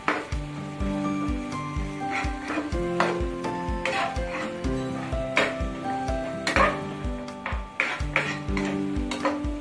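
Carrots and capsicum stir-fried in a pan, a sizzle under a brisk, regular clatter of a spatula scraping and knocking against the metal, steady strokes repeating for several seconds.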